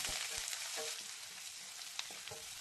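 Finely chopped onions frying in a pan with curry leaves over low flame, a soft continuous sizzle with a few faint stirring clicks, quiet and close, with no talking.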